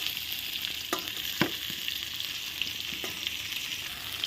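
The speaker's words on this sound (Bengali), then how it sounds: "পেঁয়াজগুলো একটু সুন্দর করে ভেজে নিচ্ছি" Onions frying in hot oil in a pan while a katla fish dish is cooked, giving a steady broadband sizzle with a few clinks of stirring, close and fairly quiet, with no voices.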